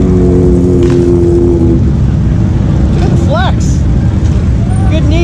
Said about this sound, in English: That's his air ride. So he drops it to get on and off, and then lifts it to ride.